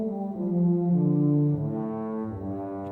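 Softly played orchestral horns from the Vienna Symphonic Library Special Edition sustain a mellow, rounded chord line that shifts pitch midway, smooth and moderately quiet with no voices, ending on a slight attack.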